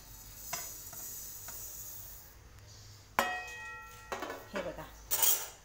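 Niger seeds hit a hot kadhai with a sudden clatter and a soft sizzle, followed by light stirring and metallic scrapes. A faint voice is heard early on.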